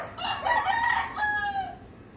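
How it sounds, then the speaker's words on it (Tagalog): Roosters crow in overlapping calls, two long rising-and-falling crows in quick succession over steady background noise, fairly close and loud. "kung marinig nyo, daming nagtitilaok"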